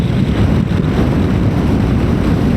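Heavy wind buffets a rider on a solo motorbike trip toward Tirupati, a constant loud low roar with slight gusty fluctuations and no voices.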